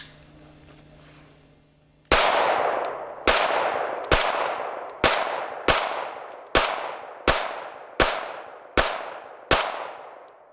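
Repeated gunshots from a Sig Sauer P320 9mm subcompact pistol fired outdoors, about ten sharp loud cracks at a steady, slightly irregular pace, each with a short decaying echo, following a quiet stretch of low background noise.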